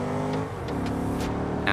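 A manual-transmission modded car in the BeamNG Drive racing game drives steadily, its engine holding a smooth continuous drone with harmonic whine, a few brief higher accents and a slight swell near the end.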